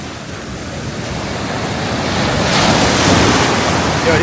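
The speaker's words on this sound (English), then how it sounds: "Yo, these waves are no joke." Ocean surf rolls in at Myrtle Beach, a loud, continuous roar of crashing waves mixed with wind buffeting the microphone, swelling toward the end.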